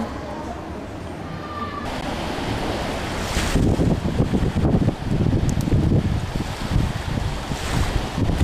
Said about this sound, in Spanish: En este lugar, playa, sol y arena